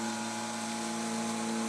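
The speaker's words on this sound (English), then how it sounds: "turn off the drill" An electric drill runs steadily with a constant high whine and a low hum, close by and unbroken.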